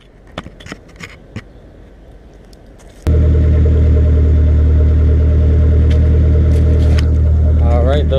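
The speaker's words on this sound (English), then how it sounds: "the red Suzuki's loud as shit. I'm gonna back it up here" A loud red Suzuki's engine abruptly fires up after a few quiet seconds of light clicks, then runs as a heavy, steady rumble while backing up, close and constant to the end.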